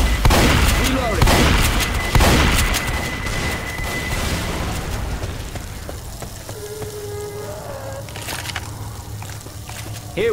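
A pipe bomb goes off in the zombie shooter Left 4 Dead 2, a few loud booms and crackling blasts early on amid dense gunfire and game chaos, then a busier, quieter stretch with voices talking.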